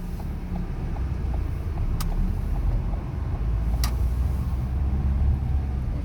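A car pulling away from a T-junction in first gear, its engine a low, steady drone with wind rumble across the microphone and no talking.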